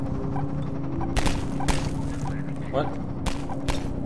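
In Half-Life 2, gunshots ring out from somewhere below, with four or five sharp, loud reports spaced irregularly over a steady background hum. A person speaks briefly between them.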